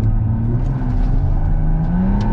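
Big-turbo BMW M140i with an open differential launching hard, a loud sustained engine roar rising in pitch as it accelerates, heard from inside the car with no talk.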